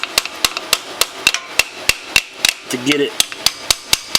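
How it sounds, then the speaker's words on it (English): Repeated light hammer taps drive a sleeve over a shaft during a CanAm DS90x transmission rebuild, sharp metallic knocks in a steady rhythm about twice a second, close and clear, with a brief spoken phrase partway through. "you can just tap this sleeve over this shaft now"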